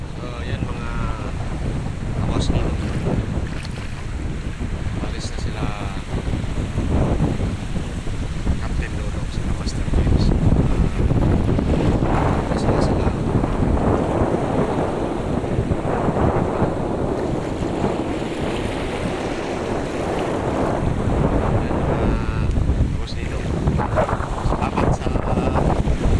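A banca boat out at sea, with steady wind buffeting the microphone and waves washing around the hull throughout, a voice talking over the continuous roar.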